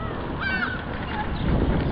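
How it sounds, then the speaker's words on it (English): Gulls call outdoors around a grocery store parking lot, with a faint squawk or two heard over steady wind and traffic rumble. "We got the gulls around everywhere."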